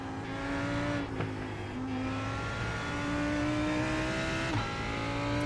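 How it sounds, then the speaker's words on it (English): A faster-class LMP prototype race car approaches in iRacing during an IMSA Hagerty series race at Watkins Glen. Its engine drones loudly and sweeps up and down in pitch as it closes in. "there's a faster class car approaching. I think another LMP."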